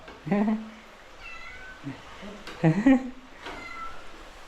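A cat meows a few times, close and clear, with a louder drawn-out meow near the middle and a quiet voice between calls.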